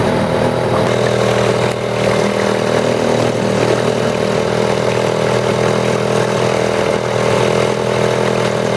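A Mercury 2.2hp outboard motor runs steadily on a canoe, a loud, constant buzzing drone held at an even pitch throughout with no pauses.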